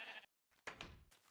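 Sheep bleating in Minecraft Beta 1.7.3, two or three short, clipped blocky bleats with brief silent gaps between them, fairly quiet and heard without talk.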